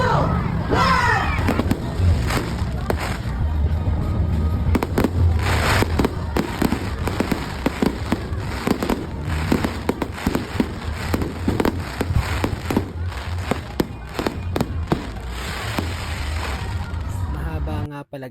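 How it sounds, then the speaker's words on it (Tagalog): A nightly fireworks display over a Christmas village in San Rafael, Bulacan, with continuous loud crackling bursts and sharp bangs rolling on for many seconds, and a crowd faintly audible beneath the barrage. "Daily fireworks display."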